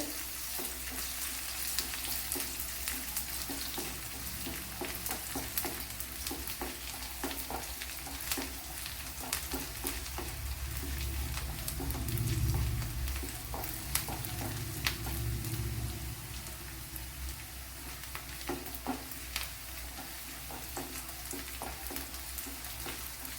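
Hot tempering oil sizzles with curry leaves for puttu, a steady crackling hiss with scattered pops and light stirring clatter, close and continuous throughout.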